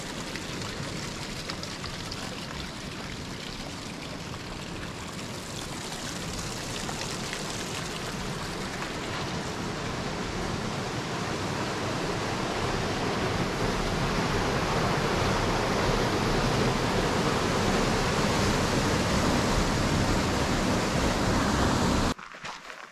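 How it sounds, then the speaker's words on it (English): Water rushes out through the Fremont Lake outlet dam in the Wind River range, a dense, continuous roar that builds gradually louder over twenty seconds before cutting off abruptly at the end. "this is the outlet from Fremont Lake. And they use a dam here to channel some of the water"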